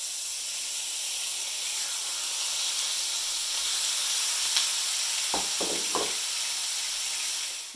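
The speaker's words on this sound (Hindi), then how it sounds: "अब हम इसमें ये मैरिनेटेड कीमा जो था ये डाल देंगे।" Marinated chicken keema fries in about five tablespoons of hot oil in a pan, a loud steady sizzle and hiss throughout, broken near the end by a few dull knocks of a utensil.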